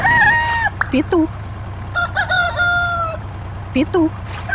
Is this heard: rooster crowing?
yes